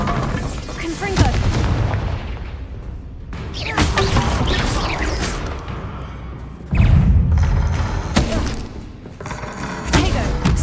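Confringo spell explosions in Hogwarts Legacy: repeated booming blasts and crashes, loud and dense, mixed with game effects and a voice speaking over the action.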